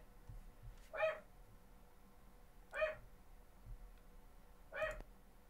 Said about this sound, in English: they have just been all night long going off with this barking